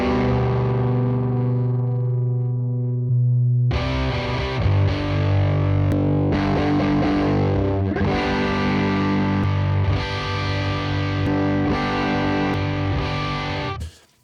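Distorted electric guitar through TONEX ONE amp profiles, two amps split left and right with one polarity inverted. Sustained chords ring loud and continuous, shifting from a thinner start into fuller strummed chords with no talk.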